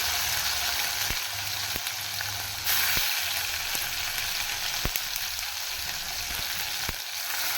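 Tomato and onion masala sautés in a pan with a steady, close sizzle. Spoon taps and scrapes come every second or so, with no voices.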